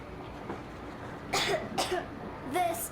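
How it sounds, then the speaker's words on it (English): A child character coughs in the video game Metro Exodus: three short, raspy coughs spaced about half a second to a second apart, close and moderately loud over a quiet background hum. "I have this cough."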